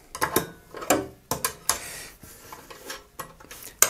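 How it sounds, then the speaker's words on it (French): A small nut on the riving knife of a DeWalt DW745 table saw is loosened by hand, making a series of close, irregular metallic clicks and taps with short pauses between. "Pour enlever le couteau diviseur, il suffit simplement de dévisser ce petit écrou qui est ici."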